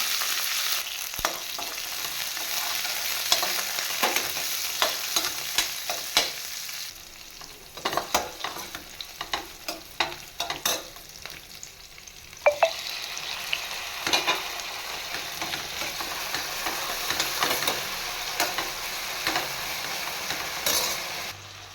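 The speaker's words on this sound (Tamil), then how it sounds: "எண்ணெய் விட்டு கடுகு கருவேப்பில் தாளித்து சின்ன வெங்காயம் பூண்டு தக்காளி இதெல்லாம் போட்டு நல்லா வதக்கிக்கலாம்" Shallots, garlic and tomato sauté in oil with tempered mustard seeds and curry leaves in a wok for a bean curry, giving a steady close sizzle broken by frequent scraping and stirring clatter.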